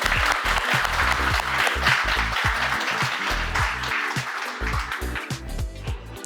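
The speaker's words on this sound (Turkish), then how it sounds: "Bir alkış daha." Applause at a Brazilian jiu-jitsu belt ceremony in a gym, a group clapping steadily throughout while rhythmic music with a thumping beat plays underneath.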